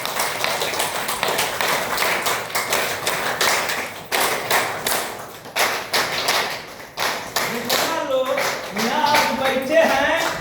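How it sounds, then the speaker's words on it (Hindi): Audience applause at a DXN meeting in India, a crowd clapping with dense, irregular hand claps that rise and fall in bursts, with some voices coming through toward the end. "इनके लिए जोरदार ताली करता हूं।"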